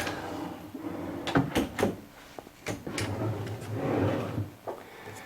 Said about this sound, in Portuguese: o diferencial dela é justamente esse clique que segura a gaveta